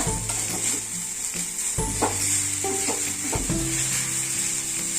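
Soaked sabudana roasts in a pan, giving a steady loud sizzle while a metal spoon scrapes and clinks against the pan at several points.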